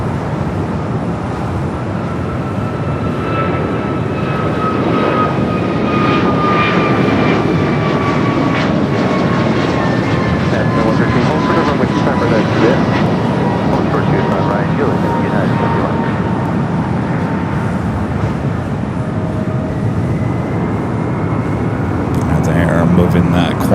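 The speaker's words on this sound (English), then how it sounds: "Moving that Qantas Dreamliner out of the gates" A Qantas Boeing 787 Dreamliner is pushed back from the gate at LAX, its engines a loud continuous roar with a slowly falling whine throughout, while a person talks over it.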